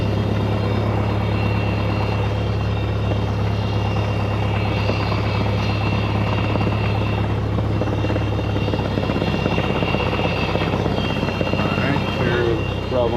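Small aircraft taxiing toward runway 9, a steady loud droning engine and propeller hum with a constant low tone throughout, heard from inside the cockpit, with faint voices underneath.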